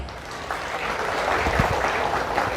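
Applause at a church service breaks out after a drama and liturgy performance, a faint, moderate patter of clapping from the gathered audience with a few heavier low thumps.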